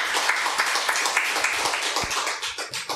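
A church congregation applauds during a Wednesday worship service, giving a round of clapping to God's glory; the steady patter of many hands runs throughout at moderate distance, with a few individual claps standing out.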